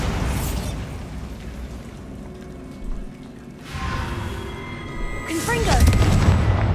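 The Bombarda spell explodes in the video game Hogwarts Legacy, several loud booming bursts with a deep rumbling tail, the biggest one near the end.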